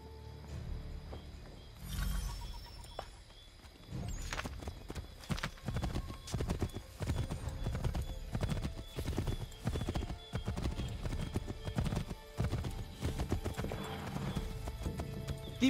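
Horse hooves galloping in Assassin's Creed III, rapid continuous clip-clop beats that stay steady and fairly loud for the whole stretch, with faint game ambience underneath.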